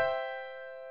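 A single note on a Grace CP-150 digital piano, held with the sustain pedal, rings out clear and steady after the strike, fading only slightly over about a second, quiet and alone.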